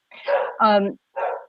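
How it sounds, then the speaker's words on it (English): Dogs barking indoors in a home: three quick yappy barks in a short burst, fairly close and loud, with no talking over them. "Sorry about the dogs."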